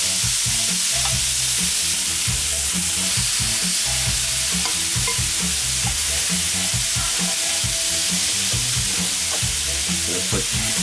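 Onions being cooked on a grill beside steak: a loud, dense sizzle runs throughout, broken by frequent scraping and stirring noises, with no talking.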